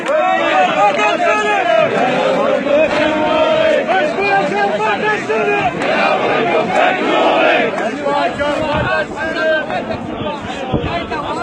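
A large crowd of young men chants political slogans in unison at a rally for Nouri al-Maliki's visit to Amarah, loud rhythmic shouting that carries on steadily without a break, voices massed close together.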